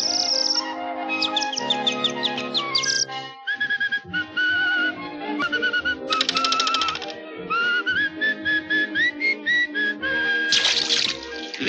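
A person whistles a lively, warbling melody with quick trills and sliding notes, phrased in short bursts like birdsong, close and clear.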